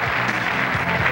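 Clapping from a studio audience welcoming a Colombian singer on a television show, a dense steady patter of applause that is close and fairly loud throughout the short burst.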